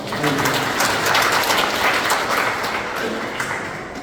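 A crowd at a memorial photo exhibition event gives a sustained, loud wash of applause for a party leader about to speak, the even crackle of clapping filling the space without pause.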